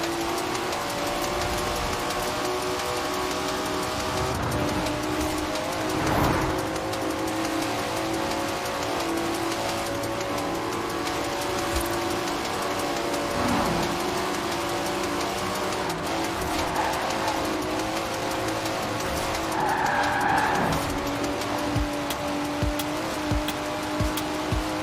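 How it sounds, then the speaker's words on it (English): A Datsun's engine revs and drones steadily in the racing game Forza Horizon 4, a loud continuous road sound with a few rising swells and a faint tyre squeal, no talking. "Never heard a Datsun sound like that"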